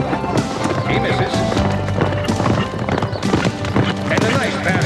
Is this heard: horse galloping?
yes